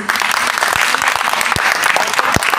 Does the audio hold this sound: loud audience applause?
yes